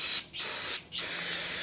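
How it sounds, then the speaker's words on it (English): An aerosol cleaner can hisses steadily while cleaning a Jeep CJ5 differential, broken by two brief pauses, with a close, continuous spray sound and no talking. "So we'll spray it some more."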